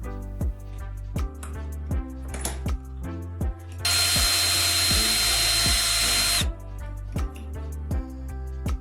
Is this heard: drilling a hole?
yes